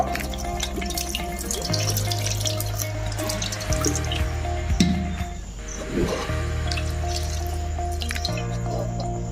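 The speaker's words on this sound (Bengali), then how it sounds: "কড়ার মধ্যে একটু পানি দেব" Water dripping and trickling into a cooking pan for mutton, a steady close splashing stream with faint kitchen clatter behind it.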